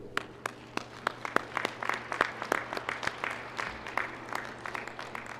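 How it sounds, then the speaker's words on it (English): Scattered applause at a fall college commencement in Tsaile, Arizona, honoring graduates' families and supporters; sharp individual claps build into a loose patter, then thin out, fairly quiet and distant. "Please give them a round of applause for your support."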